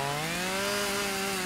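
A kids' Super Krew toy chainsaw runs with a steady, buzzing motor whine that holds one droning pitch throughout, close and continuous with no talk over it.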